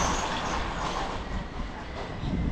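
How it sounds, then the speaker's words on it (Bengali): Long freight train rumbling past Plassey railway station, a steady broadband roar of rolling wagons that holds at close range for the whole stretch, with no voices. "কত বড় মালগাড়িটা"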